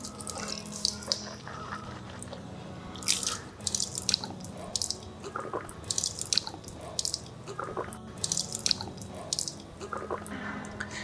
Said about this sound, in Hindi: 3 मरतबा कुल्ली करेंगे।